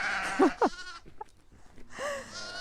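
Sheep on a farm give a few close, wavering bleats in quick succession, with another drawn-out bleat shortly after, ewes and lambs calling during lambing time.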